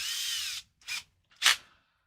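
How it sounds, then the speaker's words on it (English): A Dremel rotary tool fitted with a quick-change cutoff wheel gives a high whine for about half a second, then two shorter bursts, nearby and alone. "Only this is a Dremel down here."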